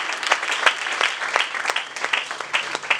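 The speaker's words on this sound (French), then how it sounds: "Acclamons très fort" A church congregation applauding and cheering loudly and continuously, dense clapping close by with mixed voices calling out throughout.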